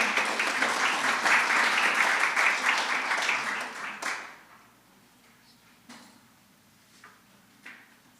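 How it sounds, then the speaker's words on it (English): Audience applause fills a summit hall as presenters walk to the front, steady broadband clapping for about four seconds before it thins out into a few scattered claps and quiet room noise. "Can I big round of applause for them as they come up to the front?"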